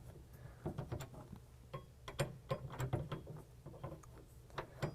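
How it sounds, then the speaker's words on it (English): A Torx wrench tightens a Gator SFX tri-fold tonneau cover bracket on a 2022 Toyota Tundra bed with soft, irregular metallic ticks and clicks, close by and fairly quiet. "now using our provided Torx wrench, we're gonna go ahead and tighten that bracket down"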